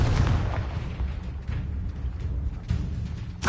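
A Confringo blasting spell explodes in the Hogwarts Legacy video game with a deep, rumbling boom that rolls on for several seconds. A second sharp burst hits near the end, and no voices are heard.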